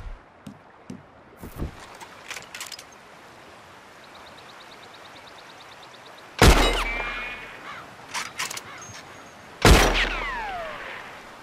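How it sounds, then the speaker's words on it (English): Two sharp, loud gunshots ring out several seconds apart in Red Dead Redemption 2 as a lock is shot off, each crack trailing into a ringing tail, with a few lighter knocks and faint ambience between them. "That lock should shoot off easy enough."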